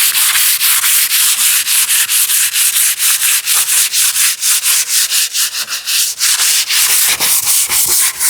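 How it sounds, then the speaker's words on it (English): Close, loud hand sanding on the wooden underside of a TV unit, with rapid rhythmic back-and-forth scratchy strokes that continue steadily and pause only briefly. "So I will still sand it to make it like finish ready"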